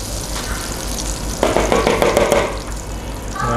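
Butter hits a hot wok while macaroni and eggs are being made, setting off a loud, close sizzle that flares up and then settles into a steady frying hiss.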